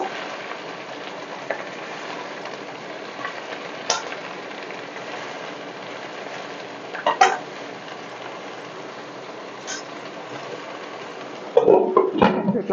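Amaranth leaves and potato sit cooking in hot oil, giving a steady, soft frying hiss with a few faint clicks and a louder clatter of stirring near the end.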